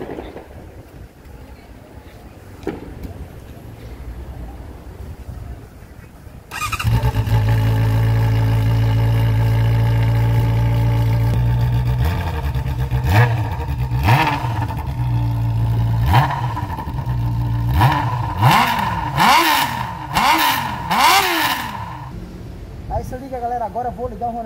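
Honda Hornet motorcycle with an Atalla 4x1 full exhaust and original tip starts up after a quiet stretch, settles into a loud idle, then fires off a series of sharp rising revs, close to the listener.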